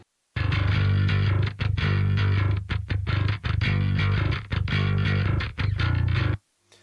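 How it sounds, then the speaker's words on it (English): A Dingwall NG2 electric bass plays a heavy, chugging djent riff with drums, loud and distorted, with short stops between phrases. "I'm actually using a new bass, which is the Dingwall NG2."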